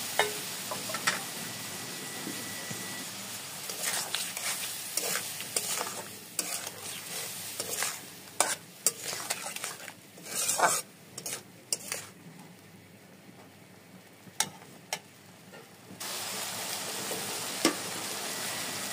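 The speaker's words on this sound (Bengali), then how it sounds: "সব ভালো মতো ভেজে নিয়ে এবার এর মধ্যে দিয়ে দেব মেশানো মশলাটা।" A spice mix fries in a pan as it is stirred, with a steady sizzle broken by frequent sharp scrapes and clinks of the utensil against the pan, carrying on unevenly throughout.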